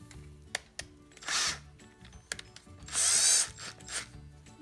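Close, rapid ratcheting clicks of a drill chuck being tightened by hand, with two longer whirring bursts between the clicks.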